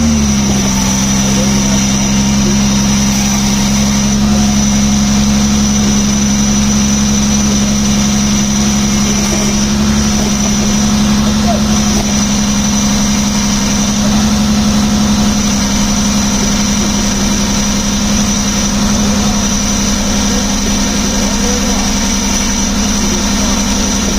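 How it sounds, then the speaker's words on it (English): A 2004 Acura MDX engine running at a steady idle during a power steering flush, loud and constant with a continuous hum and whine and no clear start. "Okay, you're going to go ahead and start it up."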